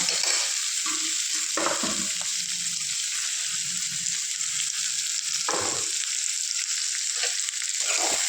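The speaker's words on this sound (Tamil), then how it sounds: "லைட்டாக உப்பு ஆட் பண்ணி நல்லா வணங்கிக்கலாம்" Sliced onions with a little salt fry in a pan toward browning for potato kurma, giving a continuous close sizzle with irregular spatula scrapes and stirring knocks.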